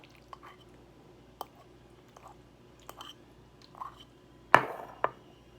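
Close, quiet chewing of a mouthful of pasta in tomato and basil sauce, a few soft wet bites and squishes spaced out over several seconds, the loudest near the end.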